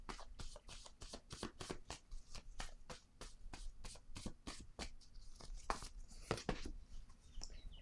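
Tarot cards being shuffled by hand in a quick run of crisp, riffling flicks and slaps, close and fairly quiet, with a couple of firmer taps near the end.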